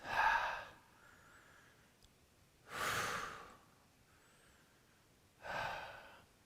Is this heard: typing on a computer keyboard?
no